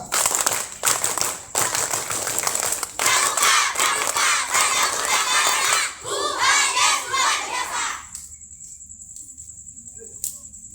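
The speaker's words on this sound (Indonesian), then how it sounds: "Dua kali tepuk pramuka" Scouts at a Pramuka weekend camp break into loud rhythmic group clapping and energetic shouting, a dense crowd noise that fills most of the stretch before cutting off to near silence at the end.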